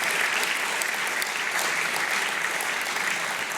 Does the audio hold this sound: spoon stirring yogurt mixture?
no